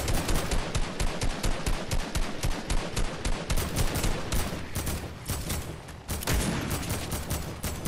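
Dense, continuous gunfire from a shooter video game, rapid overlapping automatic shots crackling loud and close throughout with barely any pause.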